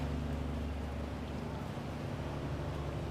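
Boat engines drone on a river in a steady, close, low rumble with a constant wash of water and wind noise, and no talking.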